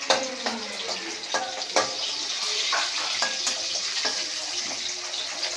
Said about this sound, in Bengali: দিয়ে এবার নাড়তে হবে। ভালো করে ফ্রাই করতে হবে।